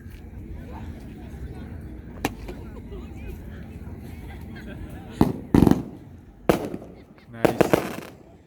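Freedom Max 500g fireworks cake from the Triumph line firing red, white and blue falling leaf effects: scattered sharp pops, then a cluster of loud crackling bursts near the end over outdoor crowd murmur and voices.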